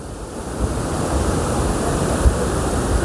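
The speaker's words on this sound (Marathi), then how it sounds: "हे धरणातून सोडलेलं पाणी" Water released through four open gates of Nilwande dam in the monsoon rushes as a steady, loud, broadband roar, continuous and close, with no voices.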